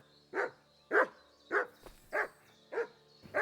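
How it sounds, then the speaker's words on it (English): A dog in the video game Kingdom Come Deliverance 2 barks six times at an even, steady pace, each bark fairly close and clear, with no talking over it. "Good dog, Mutt."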